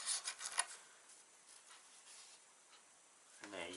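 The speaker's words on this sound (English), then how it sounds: "Just another couple of rubs. Doesn't need a lot with these diamond cards." A lathe tool is rubbed back and forth on a 600-grit diamond sharpening card, a soft, faint rasping in short close strokes, with a voice speaking briefly at the end.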